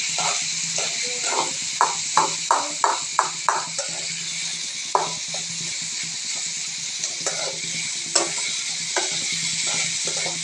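Onions stirred and fried in oil in a pan for a tengra fish do-pyaza, with a spatula scraping in quick bursts of strokes over a steady, close sizzle.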